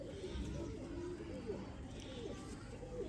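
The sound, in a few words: pigeons cooing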